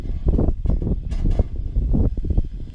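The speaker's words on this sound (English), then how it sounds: "Sorry, it's very windy." Gusty wind buffets the microphone outdoors beside an Ooni Koda 16 pizza oven, a loud, rumbling low roar that surges and dips continuously with no voices.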